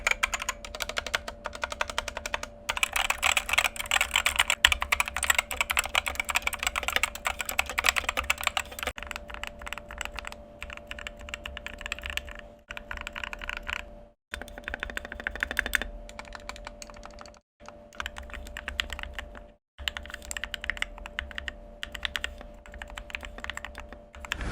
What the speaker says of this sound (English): I will leave a sound test right after this of the keyboard completely stock, like right out of the box, and then I will compare it to the sound of it after all these switches are lubed